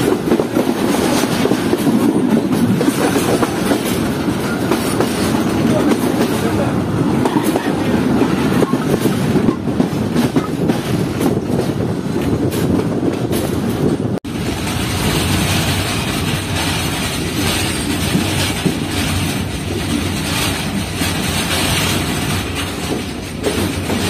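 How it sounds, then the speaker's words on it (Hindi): A freight train rolling into a railway station in heavy rain during a thunderstorm, a continuous loud roar of wheels and wagons with a rushing wash of rain throughout, close and steady with no talk. "ये हमारी ट्रेन इस वक्त अप्रोच कर रही है सरहारी रेलवे स्टेशन पर"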